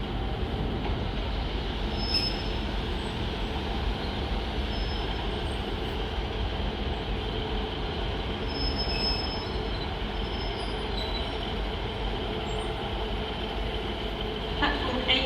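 Two-coach train at Sheffield station, rumbling steadily with squealing wheels and faint clicks, a constant loud roar filling the platform throughout.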